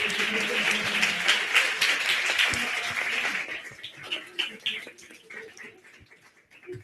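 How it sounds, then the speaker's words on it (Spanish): An audience claps loudly at a live music and philosophy session, the applause dense for about three seconds before thinning into scattered claps and murmuring. "Un aplauso para Rogelio y para Willy Favanelli."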